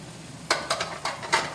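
Cabbage tossed into a hot pan with capsicum sizzles as it is stirred, with four short bursts of scraping and frying about a second apart over a low steady hiss.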